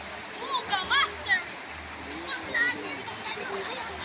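Daranak Falls roars as a steady broadband rush of falling water, nearby and continuous, while chirping birds and brief voices sit on top of it.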